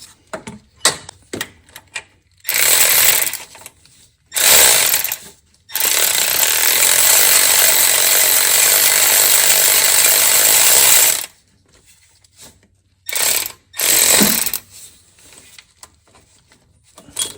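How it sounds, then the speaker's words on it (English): Impact wrench on an AC compressor bolt of a Lexus with a 2JZ engine, several loud buzzing bursts, one held for about six seconds, between quiet clicks and tool handling. "Go ahead and put the impact on it."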